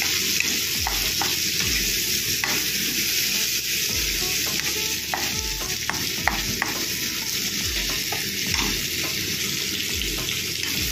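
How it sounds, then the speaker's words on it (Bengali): Frozen mushrooms tossed and fried in hot oil for a mushroom curry, a dense continuous sizzle close up with repeated rhythmic scraping strokes of a spatula against the pan, no speech. "জাস্ট একটু তেলে নাড়িয়ে নেব"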